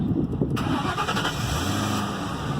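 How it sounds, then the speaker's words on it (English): A 2001 Mercury Grand Marquis GS engine cranks briefly and catches at once, then settles into a steady, close, rumbling idle. "Okay, and we'll go and give her a start."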